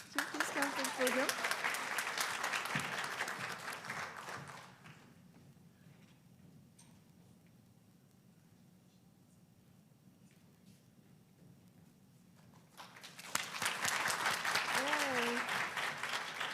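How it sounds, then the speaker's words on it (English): Audience applause at an Asian Pacific Islander and South Asian American graduation ceremony: a crowd claps steadily, fades to quiet murmurs, then breaks into a fresh round of clapping. "Let's do a round of applause."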